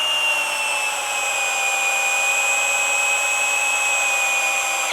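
A DCA ADJZ1202 12 V cordless three-mode drill runs close and loud with a steady high-pitched motor whine for about five seconds before cutting off abruptly.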